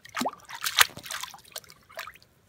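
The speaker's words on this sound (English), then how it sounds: "He's splashing around." Baby splashing in cold lake water, with irregular close splashes, drips and trickles coming in uneven bursts and fading toward the end.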